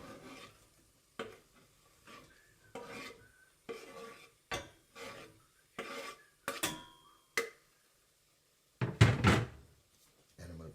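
Onions tipped into a cooking pot for Corfu spinach rice with peas, a series of short rustling, scraping knocks spaced irregularly, ending in a louder clatter, with quiet gaps between.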